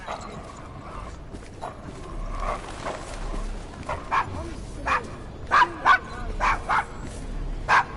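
A dog in the Assassin's Creed Syndicate video game barks in sharp, loud bursts late on, after a stretch of softer street ambience with faint hoofbeats from horses.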